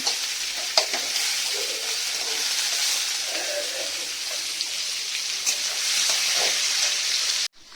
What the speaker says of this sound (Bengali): মশলাগুলো ভেজে নিচ্ছি তাহলে পেঁয়াজের কাঁচা গন্ধটা চলে যাবে